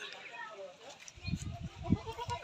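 Goats bleat on a goat farm, including a roughly three-month-old cross-breed kid. Short, fairly close calls come in uneven bursts over a steady background, with someone talking nearby.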